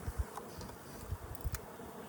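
Honey bees buzz at a hive in a beginner's Colorado backyard apiary, a soft low drone with brief louder swells as individual bees pass close.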